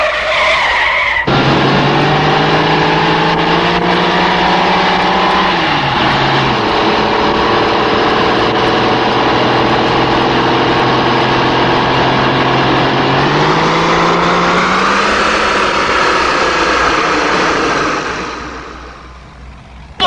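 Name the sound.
car engine purring, 450 horsepower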